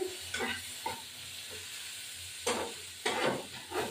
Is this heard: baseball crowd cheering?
no